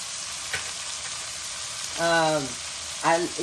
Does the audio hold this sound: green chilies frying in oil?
yes